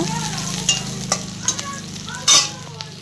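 Fish frying in hot oil in a home kitchen, a steady close sizzle broken by sharp spits and pops, with a louder crackling burst near the end and no talking.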